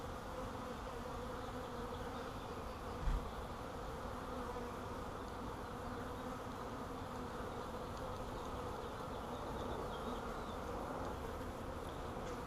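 Honeybees from a newly installed swarm buzz around their caged queen in a steady, dense hum that holds without pause from start to finish.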